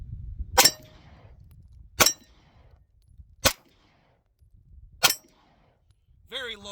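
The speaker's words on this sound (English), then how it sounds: "let's go ahead and pop off these last rounds pretty quick and see how we can keep that muzzle down" Four sharp, loud shots from a Sar K12 Sport pistol ring out at an indoor range, fired about a second and a half apart, with a faint scrape between them and a short voice at the end.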